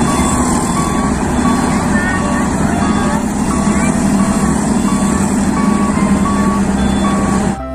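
Toy sand truck giving steady, evenly spaced reversing beeps over a constant loud engine-like hum, close by, with a voice talking throughout.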